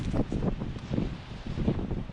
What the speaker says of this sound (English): I'll just show you, but it's pretty windy.